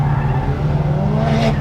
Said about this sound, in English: I'm going to try and actually do the XHP launch